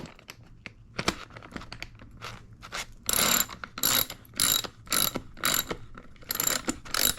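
Bolt on a bicycle seat clamp being tightened with a ratchet wrench, giving bursts of rapid metallic clicking, several short clattering runs close by with brief pauses, no talk.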